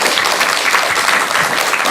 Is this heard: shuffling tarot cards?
no